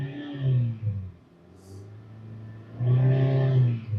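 Engine of a 2014 Hyundai Tucson with a stalling issue being revved: a close, droning hum rises in pitch, falls back toward a low idle, then climbs again into a strong, steady rev, with no talk.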